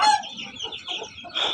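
A domestic hen with a slight head injury clucks close up in a continuous, wavering run of short calls, with no talk.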